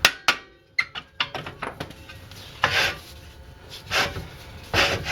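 Sharp metallic knocks ring out as a rusted rear brake disc on a Mercedes-Benz W202 C280 is hammered loose, several quick strikes followed by scraping and grinding noises close by.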